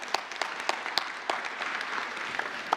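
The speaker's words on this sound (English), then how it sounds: "give him some applause." Audience applause with steady clapping from a crowd at an event, a dense wash of many hands with a few louder individual claps standing out, continuous throughout.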